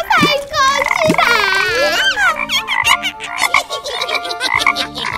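A voice imitates a frog in Korean animated pretend play, croaking in a rapid run of warbling calls, then chattering in bursts, loud and close throughout.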